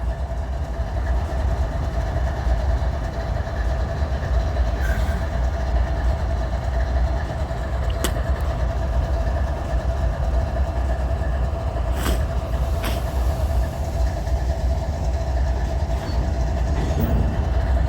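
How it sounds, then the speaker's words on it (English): A heavy coal train pulling out rumbles steadily with a low locomotive drone and faint metallic clanks and squeals, continuous and fairly distant, no voices. "Train's pulling."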